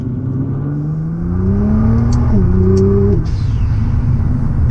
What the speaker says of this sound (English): that is a blow-off valve that you guys are hearing. It sounds like a spaceship.